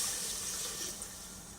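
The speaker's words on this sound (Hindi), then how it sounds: "अब हम इसमें तकरीबन 1 लीटर पानी शामिल कर देंगे" About a litre of water pours steadily into a pressure cooker holding fried beef and spices for nihari, a continuous splashing gush that tapers slightly toward the end.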